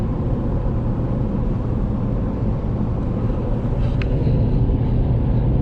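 A Ford F350 pickup cruises down the 101 highway, its cabin filled with a steady low engine and road drone that holds even throughout, with no talk.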